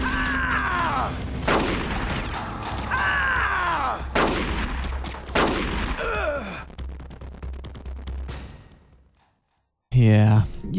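Gunfire and booming blasts ring out during a boss fight in Metal Gear Solid: The Twin Snakes, with loud repeated shots, echoing tails and falling whistles, a brief silence, then another burst.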